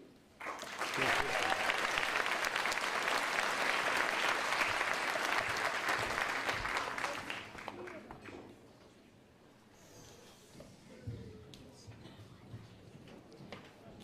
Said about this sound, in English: Let's give a round of applause for all the award recipients, our graduates, and the alumni inductees.